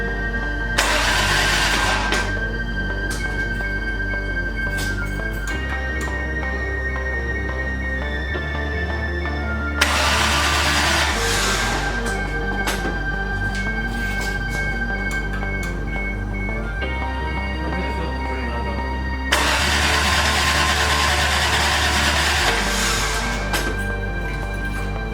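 A 1JZ engine in a 1988 Toyota Supra project car cranks repeatedly during its first start-up attempts, with three loud churning bursts spread over the span and a steady low hum between them.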